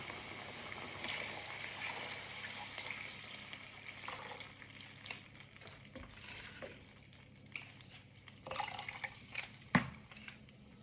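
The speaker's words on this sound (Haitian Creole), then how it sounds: "On va mettre de l'eau pois." Water poured into a pot while cooking beans for rice and beans, a soft trickling and sputter close by with small clinks and drips, fairly quiet and without talk.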